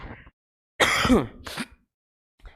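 A person gives a couple of short, harsh coughs close by, separated by brief silences, followed by a faint throaty sound at the end.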